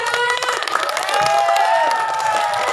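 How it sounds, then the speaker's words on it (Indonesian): A crowd of students claps and cheers at a school class-meeting contest for reciting the preamble of Indonesia's 1945 constitution, a dense, loud burst of applause with some shrill youthful shouts mixed in. "Beri tepuk tangan."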